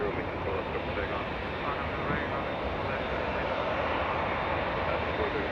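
A Boeing 787 Dreamliner taking off from runway 24 left at Los Angeles International Airport, a steady, broad engine roar holding evenly throughout, moderately distant and continuous with no pauses.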